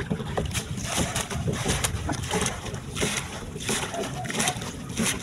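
Boat moving on open water, a steady broadband wash of water and engine or wind noise with occasional splashes throughout, fairly loud and continuous.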